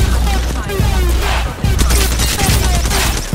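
Rapid bursts of automatic gunfire rattle through a firefight in the battle royale shooter Apex Legends, dense and loud with overlapping shots and a brief lull midway, alongside faint voice chatter.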